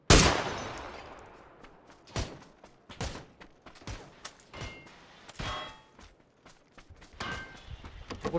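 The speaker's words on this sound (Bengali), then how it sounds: "উপর থেকে আমি ফায়ার করতেছিলাম।" Gunfire rings out in a PUBG PC squad match: a sharp loud shot opens, followed by scattered single shots and short bursts among footsteps and mechanical clicks, with no talking.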